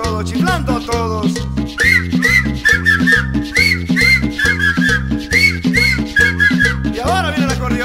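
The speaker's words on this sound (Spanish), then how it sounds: "Chiflando a todos." Whistling rides over lively accordion-driven tropical cumbia music with a steady thumping beat, the shrill whistled notes coming in short repeated phrases.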